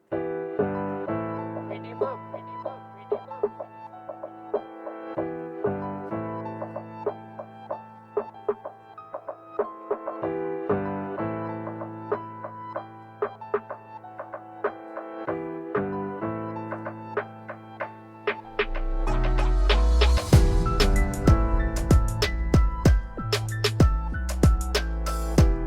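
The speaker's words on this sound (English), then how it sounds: "we'll add the same reverse piano sound to the intro" Beat intro with a reverse piano sound: soft repeating piano-like chords that swell and cut off in a steady pattern, then a heavier full section with deep bass arriving near the end.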